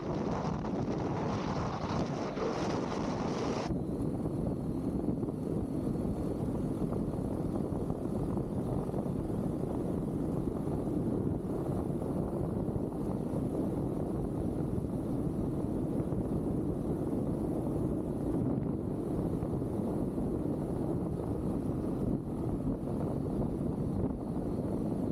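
Strong wind roars steadily against the microphone throughout, a dense low rumble with no talking, briefly brighter at the start before settling into a constant blustery buffeting.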